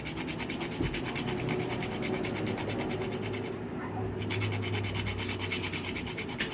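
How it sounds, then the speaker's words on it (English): Whole nutmeg is rubbed over a small kitchen grater for a custard, making fast, rhythmic rasping scrapes close up that pause briefly midway and then resume. "I'm going to grate some nutmeg."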